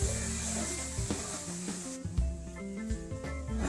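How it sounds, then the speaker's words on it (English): Crawfish etouffee being stirred in a pot, a continuous soft scraping and sizzling with scattered clinks of the spoon against the pot, close and moderately quiet. "Stir this up real good."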